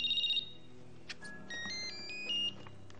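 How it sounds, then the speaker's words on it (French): A telephone rings indoors in a quiet room, a repeated electronic ringtone burst followed by fainter beeping tones and low room noise, with no voices. "Lorsque le téléphone a sonné."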